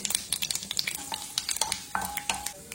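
Mustard seeds and urad and chana dal crackle in hot sunflower oil for a tempering with dried chilli and curry leaves, quick close pops and sizzles in an irregular rhythm.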